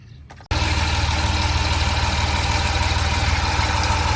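A 2009 Chrysler Town and Country engine catches after a brief quiet moment and settles into a loud, steady idle following an EGR valve repair, running close and unbroken to the end.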